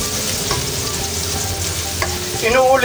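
Ginger sautéing in a hot pan gives a steady close sizzle, with a few soft utensil scrapes and a louder burst of frying near the end.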